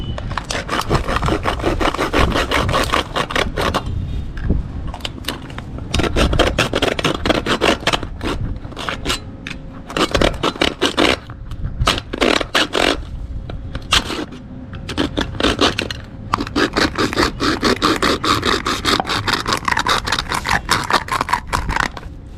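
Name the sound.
hand saw cutting wood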